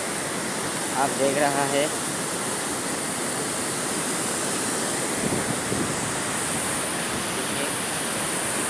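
River water rushes steadily in Karbi Anglong, Assam. It makes a broad, continuous roar close by that holds through the whole stretch. Someone speaks briefly over it near the start.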